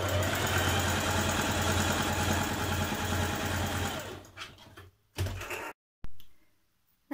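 A sewing machine stitches the back pieces of a Simplicity 8594 dress, a steady close mechanical whirr running for about four seconds before slowing, stopping and restarting in short spurts.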